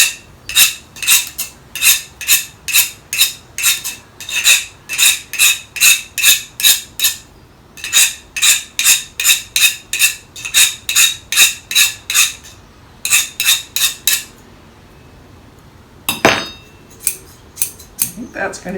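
Metal blade of a garden tool sharpened with rapid, even scraping strokes, close and crisp, in long rhythmic runs broken by short pauses, ending with a few scattered scrapes.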